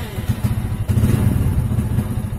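A Hero motorcycle, whose headlight will not come on, sits idling after starting, a close, loud, chugging engine putter with a steady rhythm and no talking.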